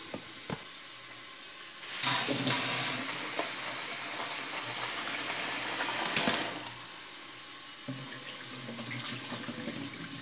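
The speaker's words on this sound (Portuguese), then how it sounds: "Coloquei o alho e a cebola para fritar." Garlic and onion frying in a pan, a steady close sizzle running throughout, with a brief louder burst of crackling early on and another sharp flare later.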